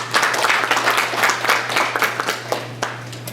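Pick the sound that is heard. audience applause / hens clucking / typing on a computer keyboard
audience applause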